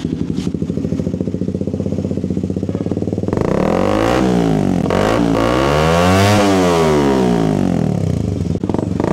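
A Suzuki GSX 150 motorcycle engine with no silencer idles with a rapid putter, then revs hard several times. Each rev gives a loud, raw, rising and falling roar close by.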